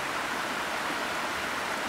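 Nohkalikai Falls in Meghalaya, a 399-metre plunge waterfall, roars as a steady, dense broadband rush of falling water, continuous and unbroken throughout.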